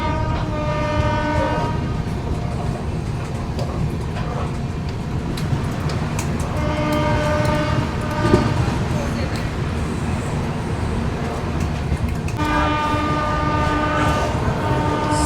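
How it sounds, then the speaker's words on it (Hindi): A Lucknow-Raipur Garib Rath express train slowing on a loop line past Ghatampur station, wheels clattering steadily while its horn sounds in several long blasts, heard from on board under a voice. "लेकिन भाई साहब एकदम स्लो हो गई ट्रेन, क्योंकि लूप लाइन से स्किप कर रहे हैं हम लोग"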